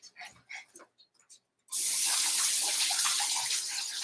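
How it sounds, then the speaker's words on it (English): A few short soft noises and a brief pause, then a tap opens and water gushes steadily into a sink for hand washing, a close, full rushing stream to the end. "let me give my hands a quick wash"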